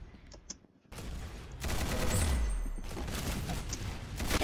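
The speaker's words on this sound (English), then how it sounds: "Dude, kill with the musket." In the Roblox game Arsenal, a musket goes off amid loud, rapid bursts of gunfire that start after a few faint shots and carry on as a sustained, roaring volley.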